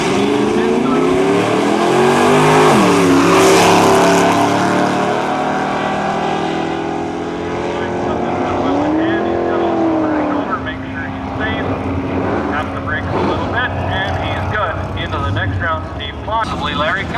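A 1951 Chevy drag racing at Cayuga, Ontario, at a nostalgia drag event: loud engines roar and rev up, then pass and fade, with a second car's engine continuing underneath afterward.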